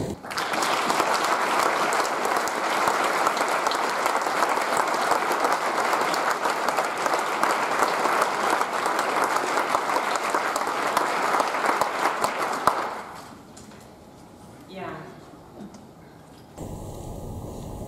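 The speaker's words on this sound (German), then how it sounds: "Bitte begrüßen Sie sie mit einem herzlichen Applaus" Applause at an award ceremony in Frankfurt, a long, steady wash of clapping from a seated audience lasting about thirteen seconds before fading into quiet room sounds and a few faint noises.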